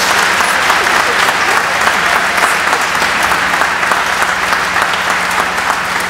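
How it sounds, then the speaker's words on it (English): Loud, sustained applause for a choir at a university Founders Day ceremony in an auditorium, dense and even throughout. "Give them another round of applause."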